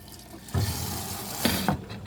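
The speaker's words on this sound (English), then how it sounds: "Then I run the water through the line so this doesn't startle the next person to fill their water cup." Water rushing through a refrigerator-style dispenser line right after a filter change, a steady hissing flow with a couple of sputtering surges as air clears, close and fairly loud.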